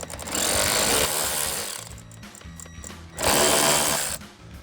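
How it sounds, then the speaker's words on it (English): A 10mm socket on a ratchet works loose the side marker bolts on a Jeep Wrangler JL, a loud, close, buzzing mechanical run in two main bursts with quieter clicking between them. "Now we will use our 10mm socket"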